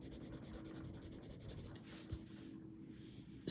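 Marker stroking over colored pencil on paper, a soft, steady scratchy rubbing that runs in repeated short strokes, close and quiet, then thins out near the end.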